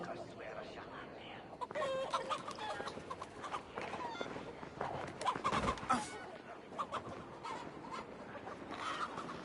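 Chickens cluck in the video game Assassin's Creed Valhalla amid busy game ambience with hoof-like clops and scattered movement sounds, fairly quiet in the mix.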